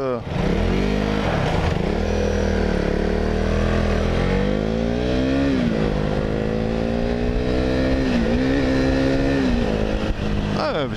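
A KTM Duke 390 single-cylinder motorcycle engine running while riding, a loud continuous buzzing drone with its pitch rising and falling as the rider accelerates and eases off, up close and steady throughout.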